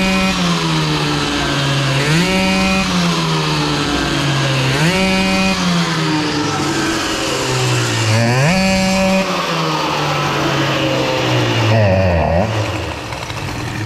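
Bidalot RF 50 WR motorcycle engine with a suspected idle jet fault runs near and loud, blipped several times in a repeating rise-and-fall pattern, then stumbling and dipping near the end.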